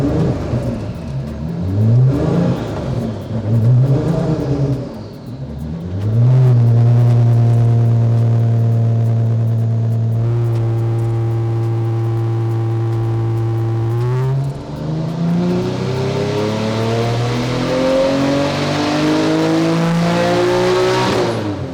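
Tuned Porsche 992 turbo engine on a dyno, loud and close, revving up in bursts, then holding a long steady high-rpm drone before sweeping higher again.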